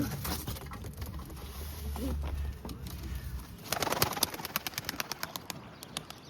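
Pigeons released from their loft, with soft cooing and a burst of wing claps and flapping in the second half, close by over steady outdoor background noise.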